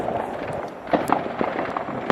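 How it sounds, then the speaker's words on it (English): New Year fireworks burst in a quick scatter of sharp distant pops and crackles over a low background hum, several reports within two seconds. "listen to the fireworks!"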